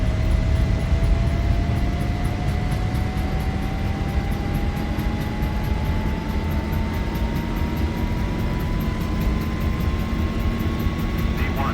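A Boeing 737 in the X-Plane 11 flight simulator rolls down the runway at takeoff power, its jet engines giving a steady loud roar with a rising whine throughout.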